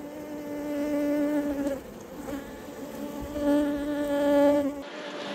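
Honey bees buzz around an open hive, a steady, close droning hum with shifting pitch as individual bees pass near, swelling and easing over several seconds, with no talking.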